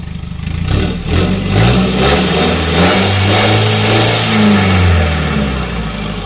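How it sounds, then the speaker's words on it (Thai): A remapped Chevrolet car engine revs hard and loud through the exhaust, rising and falling in deep roaring sweeps with rumbling idle between pulls. "เครื่องยนต์เชฟเนี่ย ดังแน่นดัง โหดอยู่แล้ว"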